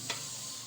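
Jengkol frying in a pan gives off a steady, even sizzle, with a faint clink right at the start and no talking.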